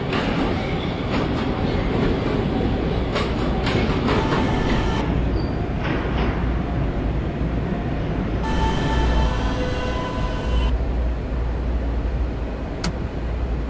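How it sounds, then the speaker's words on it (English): A westbound E subway train runs on the rails with a loud, continuous rumble and rattling wheel noise throughout, and brief high squeals and tonal whines come and go. "This is a Westwatop bound E train."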